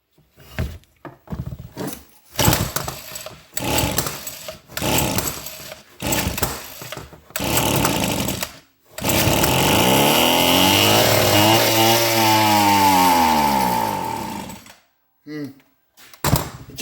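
A Homelite hedge trimmer's small two-stroke engine fires up after sputtering attempts, roars steadily for several seconds with wavering pitch, then dies out; someone talks in the opening part.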